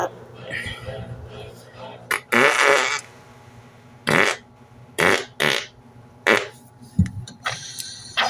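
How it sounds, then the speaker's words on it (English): A series of loud, short, sputtering fart noises comes in bursts with pauses between them. Faint background sound fills the gaps. "too much farting on offense"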